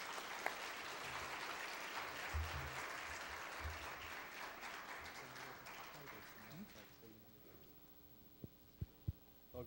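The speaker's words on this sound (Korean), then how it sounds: "크게 우리 환영의 박수로 맞이했으면" A church congregation at a Korean service applauds to welcome the pastor: a soft, distant wash of clapping that fades after several seconds, leaving a quiet room with a few dull thumps.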